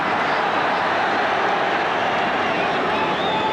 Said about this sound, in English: The crowd didn't like it.